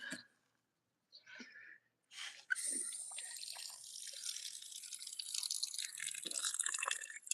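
Water pours steadily into a potted plant after a few brief soft sounds, a continuous hissy splashing that runs for several seconds, fairly close.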